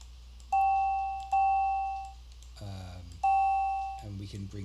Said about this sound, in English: we can bring this up, the wave shaping, to make a sort of cracked bell sort of sound